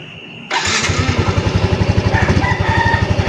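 A Yamaha Mio scooter engine starts abruptly after a short quiet moment, then settles into a close, steady idle of quick rhythmic pulses, heard alone without speech.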